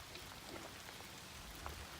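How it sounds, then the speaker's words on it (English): Light rain on the Appalachian Trail, a steady soft patter of drops falling evenly all around with no other sounds, faint and continuous. "It's raining right now, but not too hard."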